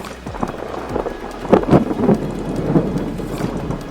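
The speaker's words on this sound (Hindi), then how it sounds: "बादल भी गरज आए दोस्तों" Thunder rumbles during rain in a village, low rolling booms swelling over a steady hiss of rainfall, fairly close and loud, with no talking.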